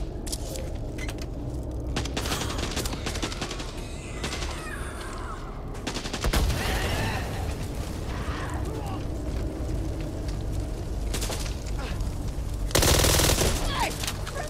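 Friendly gunfire in the shooter Back 4 Blood: sustained automatic weapon bursts with crackling, rumbling chaos and occasional louder blasts, while voices call out over the din.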